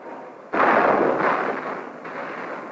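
A mortar round exploding at the Khe Sanh combat base, a sudden loud blast followed by a rumbling, fading roar and a second softer burst, heard alone without voices.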